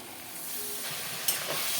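Spices sizzling in a hot pan with brinjal and potato, a continuous hissing fry with a quick clatter of stirring partway through.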